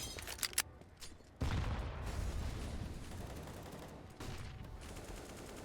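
Counter-Strike gunfire on the Vertigo map during an ESL Challenger League match: rapid bursts of shots at the start, then a sustained loud stretch of overlapping fire and mechanical clatter continuing to the end.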